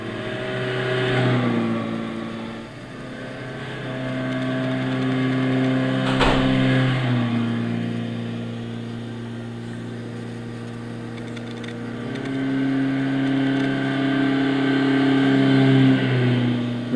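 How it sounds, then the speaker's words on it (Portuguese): Citroën 2CV from 1954 with a 0.4-litre, 12-horsepower two-cylinder air-cooled engine in Gran Turismo 6, droning steadily through shifting revs with a brief sharp click midway, close and fairly loud with no talk. "Deixando o ronco para vocês dos dois cilindros"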